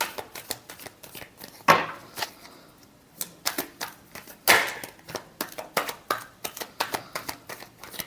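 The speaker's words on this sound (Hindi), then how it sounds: "last shuffle" A tarot deck is shuffled by hand in a rapid series of crisp, papery riffles and slaps, close and fairly quiet, with a few louder snaps among the irregular card flicks.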